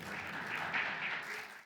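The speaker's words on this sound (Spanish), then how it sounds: "a quien recibimos con un gran aplauso" Audience applause welcoming the moderator of an energy infrastructure panel at a ministry event, a steady, fairly faint wash of clapping from a crowd that holds for under two seconds and then cuts off.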